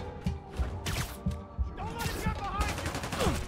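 Bursts of machine gun fire rattle through combat in the Spider-Man Remastered video game, with rapid repeated shots and impacts layered over game effects and whooshes, fairly busy throughout.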